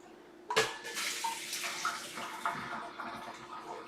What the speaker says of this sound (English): So we're going to strain them out. Little strainer here. Pour these in the sink.